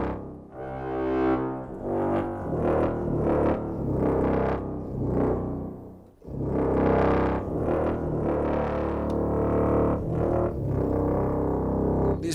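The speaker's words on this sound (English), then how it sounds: "This particular part is a combination of tuba and bass trombone." Tuba and bass trombone playing together in an orchestral passage, a loud, sustained low brass line of held and swelling notes with a short break midway before a strong re-entry.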